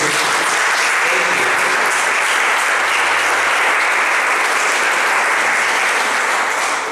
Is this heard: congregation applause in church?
yes